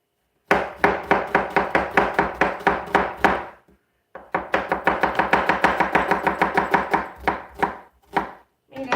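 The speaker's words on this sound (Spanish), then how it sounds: "Es poquita cebolla nada más la que le voy a picar a mi esposo." A knife chops a small amount of onion on a cutting board, with rapid, evenly spaced, loud close knocks in two runs separated by a short pause, with no talking.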